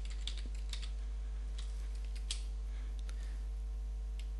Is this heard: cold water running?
no